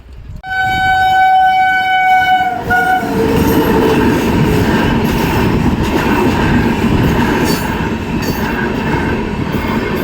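A train horn sounds loudly, then a long train rumbles past close by a level crossing with continuous rattling wheels and a faint squeal.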